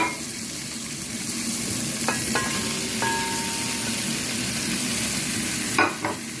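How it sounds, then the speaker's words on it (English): Bacon and chestnut mushrooms fry in a pan with a steady, fairly quiet hiss, and a few sharp clinks of a utensil against the pan cut through it. "listen to that sizzle"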